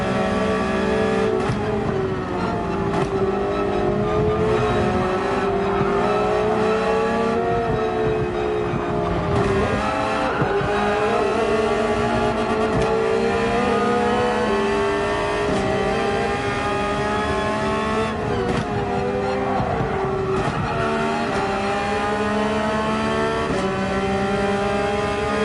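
A Subaru-based race car engine drones loudly and continuously on the Yas Marina Circuit, its pitch rising and falling through gear changes as it accelerates and lifts, with no voices over it.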